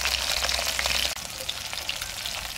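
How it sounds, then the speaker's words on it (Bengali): Fresh river pabda fish fry in hot oil, a steady, close, dense sizzle with crackling spatter throughout, no voices. "মাছগুলো ভাজা হয়ে গেছে,"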